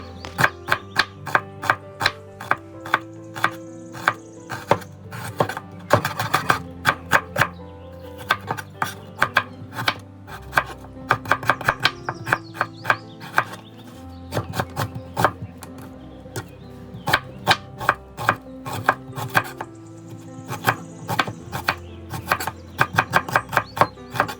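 Whole onions sliced thinly with a knife for onion pakoras, a fast, steady series of crisp cuts against a board, continuing throughout over background music.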